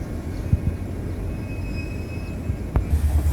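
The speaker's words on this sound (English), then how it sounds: "You can hear that prime mover winding up." An Indiana & Ohio Railroad diesel locomotive's prime mover winds up during local freight switching, a loud, steady low engine rumble with a faint high whine and a sharp clank near the end.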